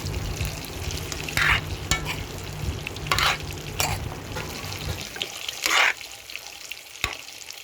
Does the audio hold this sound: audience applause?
no